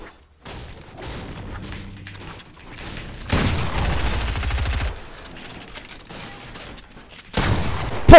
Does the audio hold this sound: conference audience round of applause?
no